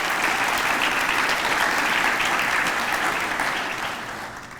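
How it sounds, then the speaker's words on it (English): An audience at a regional tourism annual meeting bursts into loud, sustained applause that fills the room and then begins to fade toward the end. "Could we get a round of applause for them as well?"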